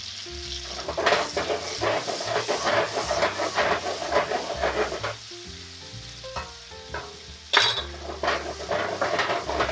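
A ham steak sizzles loudly in a pan, with a steady frying hiss broken by clinks and scrapes of a utensil against the pan and a few sharper bursts of spitting fat.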